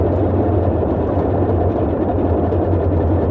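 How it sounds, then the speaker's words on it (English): A loud, steady engine drone of a Boeing 247D in a flight simulator game, engines sputtering, rumbles continuously at close range, deep and unbroken throughout. "Sounds like our engines are wanting to kind of die there"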